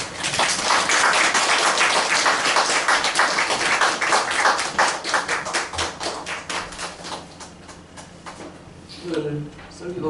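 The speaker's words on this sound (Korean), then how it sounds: "나오실 때 한번 큰 박수로 따뜻하게 맞이해 주실까요?" A Presbyterian church congregation at Sunday worship claps warmly to welcome a speaker, loud sharp clapping that thins out over several seconds, with voices coming in near the end.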